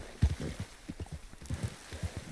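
Horse hooves in Red Dead Redemption 2, a horse run slowly through an area, with close, steady clip-clop thuds repeating in an uneven gallop-like rhythm, alone without talk.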